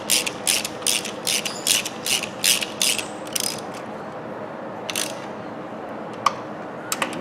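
A ratchet clicks in quick bursts while tightening starter motor bolts on a car, with sharp close mechanical clicking in several runs followed by a few isolated clicks.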